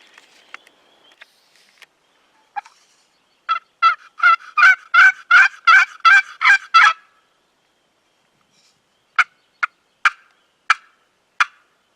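A flock of wild turkey hens and toms gobble in a loud rapid rattling burst, followed after a pause by several sharp separate calls at a moderate distance.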